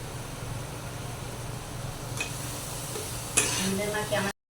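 Meat frying lightly in a pan at home, a soft, even sizzle with a low background hum and a couple of spoon knocks near the end, then a sudden cutoff.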